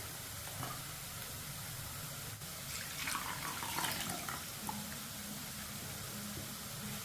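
Water poured from a large glass into cooled roasted wheat flour and worked by hand into a lump-free batter, a steady close pouring and splashing sound running for about seven seconds.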